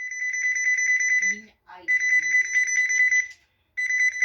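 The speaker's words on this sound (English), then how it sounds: "If you wanna find the lost handset, press the find button." GE 28214KE2-A cordless phone handset sounding its find/paging ring: loud, steady electronic trilling tones in long bursts, broken by brief gaps, with a short voice heard in one pause.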